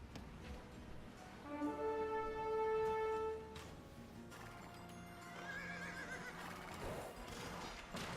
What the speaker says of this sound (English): Oh, that's more horses.